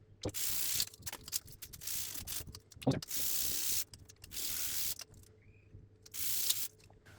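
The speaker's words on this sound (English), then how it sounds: "And then I take another sandpaper." Wet sandpaper worked over a brass watch dial, heard as faint, close bursts of gritty rubbing strokes separated by short pauses, with small clicks and handling noises in between.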